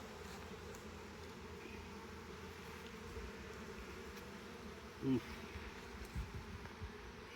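Honeybees hum steadily around an open nuc hive, a continuous low drone with occasional louder passes of bees flying close, no talk in the clip.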